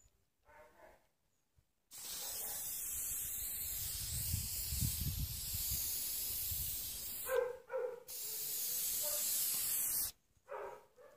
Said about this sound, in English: make sure that you're upwind of where you're spraying and still hold your breath.